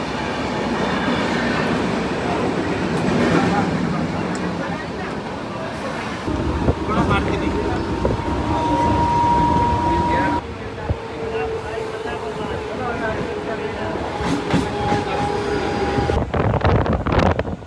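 Onboard rumble of a Mumbai suburban local train heading into Dadar station, a steady loud roll with clacks and squealing wheel tones, several people talking over it.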